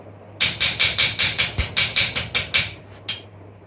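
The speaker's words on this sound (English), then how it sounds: "So yeah, just flatten them out, makes them easier to work." About a dozen sharp, evenly spaced hammer blows flatten steel plates for a 14th-century Visby gauntlet, close and ringing, followed by a last lighter strike after a short pause.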